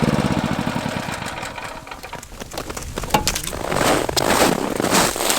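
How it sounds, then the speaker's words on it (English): Combine harvester engine starting up in a cold blizzard, a rough knocking, chugging diesel idle with steady mechanical pulses that builds slightly louder toward the end, close by with no talk. "I'm gonna shut off this generator, and I'm gonna try starting the combine."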